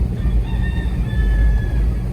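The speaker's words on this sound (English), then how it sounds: "Rooster says hello." A rooster crows in a long, wavering call over a steady low rumble, like an engine or road noise close by, on the road to a river in Westmoreland, Jamaica.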